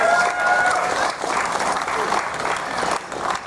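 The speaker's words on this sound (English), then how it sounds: "Give them a round of applause." An outdoor Canada Day crowd in Quesnel, BC, applauds the Miss Quesnel pageant candidates with steady clapping at moderate distance. A voice carries over the clapping.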